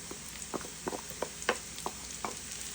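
Garlic and softened, nearly browned onions sizzling in a frying pan, a steady sizzle broken by several close spoon taps and scrapes, no speech.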